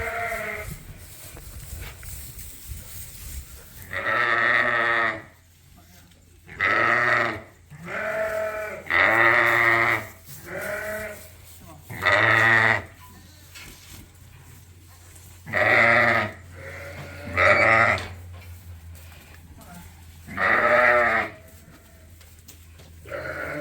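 Sheep in a barn during fall lambing bleat repeatedly, about ten loud, drawn-out calls from several animals at close range, spaced by short pauses over a low steady background hum.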